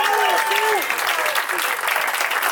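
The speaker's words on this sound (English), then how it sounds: "let's have one more big round of applause for U.S. Representative Waterwoman Tulsi Gabbard" Big round of applause from a crowd for U.S. Representative Tulsi Gabbard at a climate and foreign policy event, steady and dense throughout, with a voice briefly heard over the clapping at the start.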